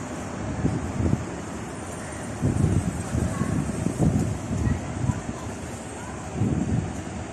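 Wind gusts rumble against the microphone outdoors in uneven low bursts, with a steady airy hiss behind them.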